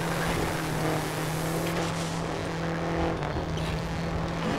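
A car engine roars at high speed in the video game Trailmakers, a steady loud droning whine that holds throughout with slight shifts in pitch and no pauses.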